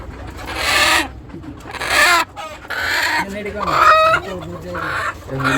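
Chickens cluck and call loudly and close by in several bursts, with busy overlapping fowl noise filling the whole stretch.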